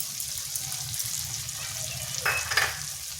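Cashew paste with poppy seed paste is stirred in a frying pan, a soft continuous sizzle with scraping stirs and a brief clink near the end, close and fairly quiet.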